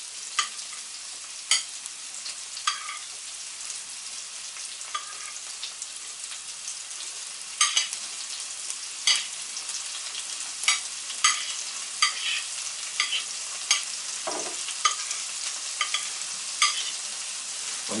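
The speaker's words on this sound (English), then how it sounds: "now the white onions. And what I will do also is put the spring onions in as well" White onions and spring onions fry fiercely in a pan, a loud, dense sizzle with frequent crisp spits and crackles over eighteen seconds, heard close up with no one talking.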